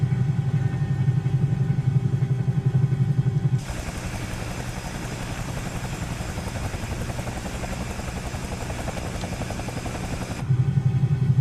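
A Bell 222B helicopter's engine running in Microsoft Flight Simulator, a steady mechanical whine and roar that shifts to a brighter, broader turbine tone midway, then settles back to a lower hum.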